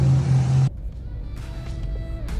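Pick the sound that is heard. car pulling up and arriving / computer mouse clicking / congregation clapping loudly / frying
car pulling up and arriving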